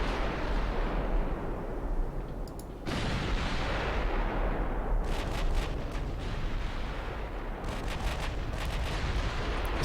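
Twin 16-inch battleship guns firing in Ultimate Admiral Dreadnoughts: a dense, continuous roar of heavy naval gunfire and explosions with deep rumbling booms, loud and unbroken throughout.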